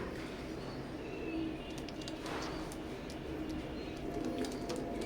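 Teddy pigeons of an Omani imported bloodline coo in a low, steady murmur at a pigeon sale, set within constant background hiss with no voices.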